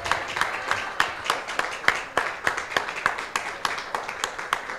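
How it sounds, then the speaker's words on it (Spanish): Church congregation applauding during a worship service, a steady run of many hands clapping in a fairly regular rhythm at moderate distance, lasting the whole stretch without clear talk over it. "Vamos a dar un aplauso al Señor por un momento."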